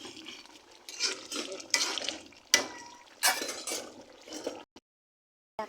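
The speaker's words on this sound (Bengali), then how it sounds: "আমারই একটু নেড়ে চেড়ে নিচ্ছি।" Utensil scraping and clinking against a cooking pot as food is stirred, in irregular close bursts of scraping strokes with brief pauses, ending in near silence.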